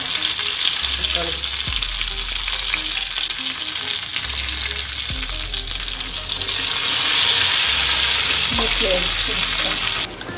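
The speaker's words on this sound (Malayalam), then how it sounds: "ഉള്ളി കറിവേപ്പില വറവിട്ട് കൊടുക്കാം" Onion and curry leaves sizzle loudly and continuously in hot oil, with occasional low knocks from stirring the pan.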